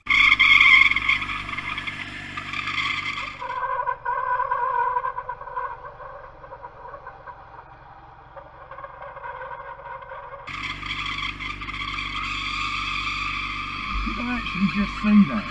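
A motorcycle with its rear wheel locked skids along the road, a harsh scraping tire squeal that rises, drops to a lower grinding tone mid-clip and returns loud near the end amid traffic noise.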